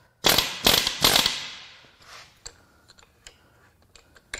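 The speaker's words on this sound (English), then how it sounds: "Let's try this hammer." Hammer striking a Volkswagen 2.0L TSI EA888 engine during a teardown, three sharp loud metallic bangs in quick succession, then a few fainter clinks and taps that trail off.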